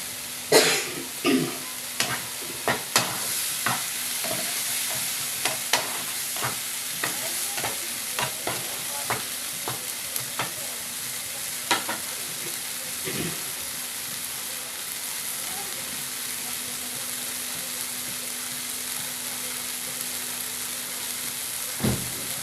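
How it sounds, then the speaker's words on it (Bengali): Tomato paste and spices fry in a pan with a continuous close sizzle. A spoon scrapes and taps against the pan in irregular strokes, and there is no talking. "এবার মশলাটাকে ভালো করে কষিয়ে নিতে হবে।"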